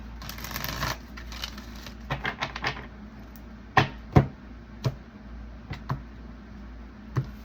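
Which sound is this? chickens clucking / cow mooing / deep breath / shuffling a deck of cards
shuffling a deck of cards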